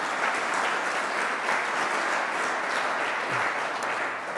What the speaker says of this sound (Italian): vi chiedo di accoglierlo con un applauso